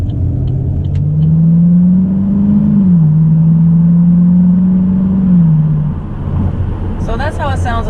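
Steady low V8 rumble from a Camaro SS with a 6.2 engine and Borla exhaust, heard from inside the cabin while cruising, with a brief rise in pitch midway and a faint chime near the end.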